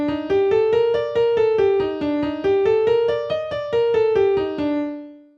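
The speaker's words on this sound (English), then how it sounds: "the one that is more commonly used is the Hirahoshi scale, which sounds like this." A plucked, koto-like melody steps through the Japanese Hirajoshi pentatonic scale, ascending and descending in even notes before the last tone rings out and fades.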